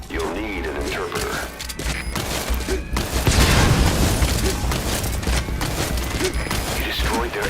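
An explosion takes out an enemy anti-air radar in the video game Metal Gear Solid V: The Phantom Pain, a rumbling crashing blast that swells in the middle over a steady low mechanical hum, with a voice partly audible.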